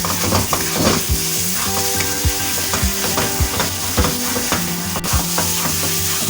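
Semolina roasts in a pan for halwa, sizzling continuously while a spoon scrapes and stirs in repeated strokes, close and loud with no talking.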